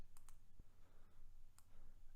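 Sharp mouse clicks at a computer workstation during Photoshop editing, a few isolated taps spaced apart over a quiet low hum with no talking.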